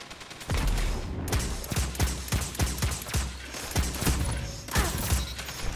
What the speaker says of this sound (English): I don't know why he kept shooting me